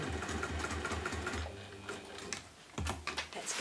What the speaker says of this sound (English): It was when I started to sew